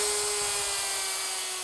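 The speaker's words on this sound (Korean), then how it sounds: "원활한 작업을 위해 자체 제작한 당구대 상판용 전기톱이라고 하는데요" A custom-made electric saw cuts into a wooden billiard table top edge, a steady loud whining motor drone with a sustained tonal hum, close and continuous, no speech.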